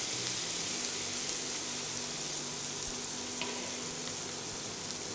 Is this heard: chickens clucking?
no